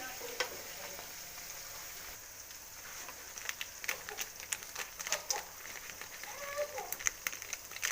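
MTR puliyogare powder fries in a little oil, giving a soft, continuous crackle and sizzle broken by many small pops and light stirring clicks that grow busier toward the end.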